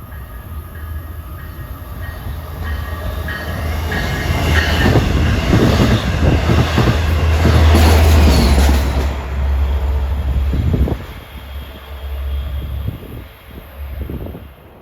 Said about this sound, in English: approaching now is train 659